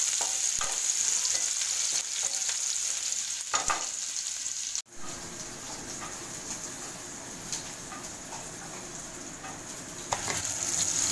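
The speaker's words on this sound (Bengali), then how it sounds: "তেল গরম হয়ে গেছে, পেঁয়াজটা দিলাম। পেঁয়াজটা দিয়ে আমি হালকা ভাজবো।" Onion frying lightly in hot oil, a continuous close sizzle with occasional stirring scrapes, a brief knock midway, and faint birdsong in the background.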